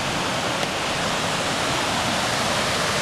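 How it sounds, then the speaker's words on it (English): A mountain river on a Christmas Meadows hiking trail rushes in a loud, steady, close wash of flowing water, with no voices over it. "Nice river."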